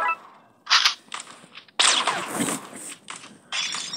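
Gunfire in a video game: several bursts of sharp shots in quick clusters, loud and close, with brief pauses between volleys.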